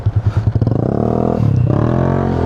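A motorcycle pulls away and rides off after a rainstorm on a delivery trip in Balibago, its engine note rising steadily and sounding close and loud, with no talking.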